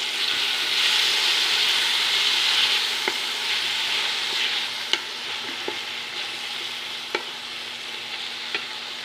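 Tomatoes and whole green chillies frying in a pan for fish biryani, a loud steady hiss of sizzling with occasional sharp metallic clinks of a spoon stirring, close up.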